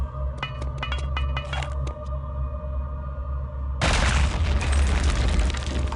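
A grenade explosion in the Return to Castle Wolfenstein game bursts out as a sudden loud boom partway through, following a stretch of clicky, tonal game sounds, and a dense roaring rumble sustains afterward.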